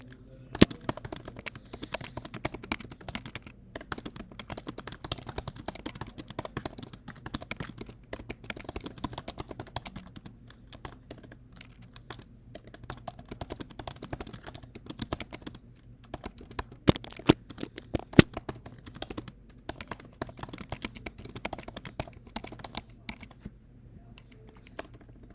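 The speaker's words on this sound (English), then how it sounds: "let me just type here." Steady, fast typing on a computer keyboard during a severe weather livestream, with quiet, continuous key clicks close up and a faint background hum.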